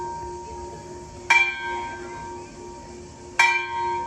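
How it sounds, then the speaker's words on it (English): Two separate church bell strikes ring out from a bell tower on the Greek island of Kastellorizo, heard up close, each sharp onset followed by a sustained, fading ring over a steady hum. "I'm right next to the bell tower."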